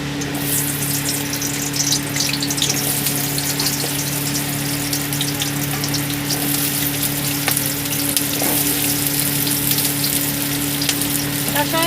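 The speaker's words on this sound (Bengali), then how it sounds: "তেলটা গরম হয়ে গেছে, এবার আমি দিয়ে দেবো পেঁয়াজটা।" Chopped onion frying in hot oil for an egg korma, giving a steady, close, crackling sizzle that holds at an even level throughout, with no talking.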